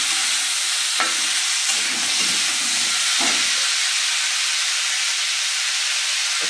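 Green chilies sizzle and fry loudly in a pan for Bengali-style fish curry, a dense continuous hiss with occasional stirring scrapes close by.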